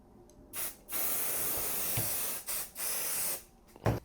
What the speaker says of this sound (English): this is where we would spray the stabilizer and then glue the clothing onto that